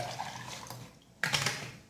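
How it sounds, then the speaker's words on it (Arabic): Water poured into a blended lemon juice mixture, a faint splashing pour that fades, then a louder gush of liquid near the end, heard alone with no talking. "نعاود نضيف عليه الماء"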